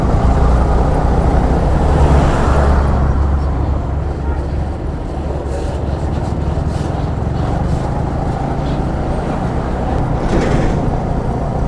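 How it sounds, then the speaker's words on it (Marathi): Traffic on a ghat road heard from a motorbike ride, with a low engine rumble and road noise loud and close throughout, passing vehicles swelling and fading, and a voice talking over the roar. "ह्याला घाटामध्ये थोडं ट्रॅफिक लागून आहे."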